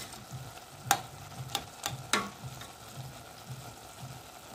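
Cane herbs and one small tomato cooking together in a pan, giving a soft, steady sizzle with a few sharp clicks of stirring utensils against the pan, with no talk.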